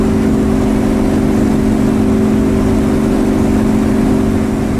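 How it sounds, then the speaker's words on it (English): A Yak-52 propeller plane in the DCS flight simulator drones with a steady engine tone blended into loud, constant rushing wind noise, unbroken throughout. "They mix the wind noise and the engine noise."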